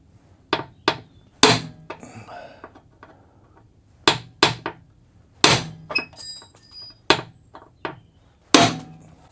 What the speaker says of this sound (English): I'm going to use a centre punch in the middle, just in case I have to drill it